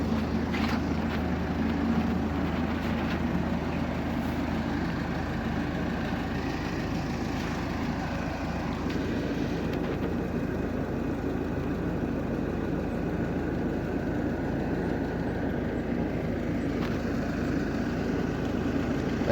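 A Ford diesel engine idles steadily with the bonnet open while its DPF regenerates, producing a continuous, even mid-low drone heard from close by with no talking.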